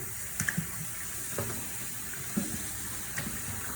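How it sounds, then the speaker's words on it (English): Warm tap water runs steadily over raw chicken in a sink, a soft continuous splashing stream with a few faint clinks, quiet and close with no voices. "you will be rinsing it with warm water. Just rinse your meat."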